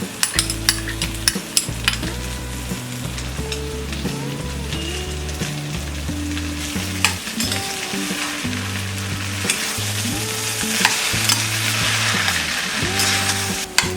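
Boiled, grated potato stuffing with green coriander frying on a low flame, a loud continuous sizzle with repeated spoon scrapes and clinks against the pan as it is stirred.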